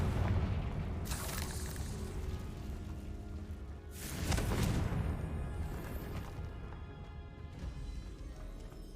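A Confringo blast spell in a Harry Potter video game goes off as a deep, rumbling explosion with a loud boom that swells and slowly fades, following an earlier fainter burst, with no talk over it.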